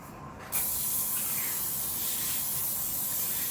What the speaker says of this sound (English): I'll spray it with a non-stick spray.